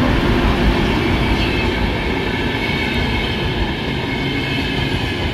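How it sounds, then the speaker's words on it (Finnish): A train leaving Oulu rolls past on the railway tracks near Kempele station, a steady loud rumble of wheels and carriages holding evenly throughout with no talking. "Oulusta lähtevä juna, joka ohittaa tämän paikan Kempeleen asemalla"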